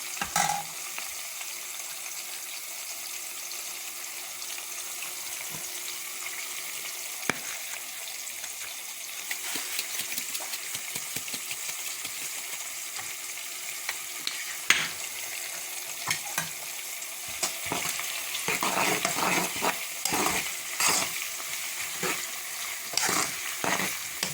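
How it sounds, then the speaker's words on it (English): Onions caramelizing in a pan for a tomato and onion stew, a steady hiss of frying with repeated scraping stir strokes that grow busier toward the end, close by with no talk. "I'm caramelizing the onion now."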